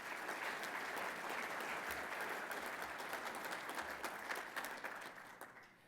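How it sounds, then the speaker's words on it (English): Conference audience applauding Maryland firefighters, a broad crowd of clapping hands heard from a distance, steady and even before thinning and fading out near the end. "Let's give them a round of applause."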